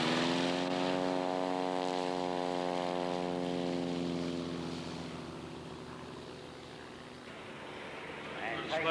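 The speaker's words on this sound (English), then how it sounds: "Taking off off the runway are the two test vehicles flown by Richard and John Kelly." A single-seat S1 biplane with a 180 hp flat-four Lycoming engine takes off from the runway at an airshow, its propeller drone loud and steady, then slowly easing as it pulls away, with a voice talking over it.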